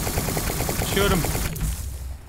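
Rapid gunfire in a first-person video game, a steady stream of close, clattering shots that fills the clip before fading out near the end.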